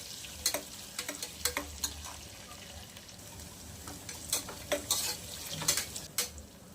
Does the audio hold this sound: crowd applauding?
no